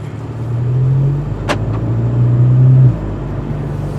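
A VW GTI with an aftermarket exhaust drones deep and throaty, heard steadily from inside the cabin, swelling slightly as it accelerates, with a brief click partway through.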